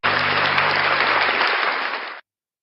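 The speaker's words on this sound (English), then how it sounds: "round of applause for NCR News Network" A round of applause from a morning show audience, loud and steady with dense clapping, running for about two seconds before stopping abruptly.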